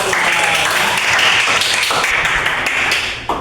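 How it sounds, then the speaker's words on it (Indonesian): A classroom group applauds during a lesson on the apostolic nature of the church, a dense, loud, steady wash of clapping that runs the whole stretch and thins slightly at the end. "Oke, cukup kita beri tepuk tangan dulu"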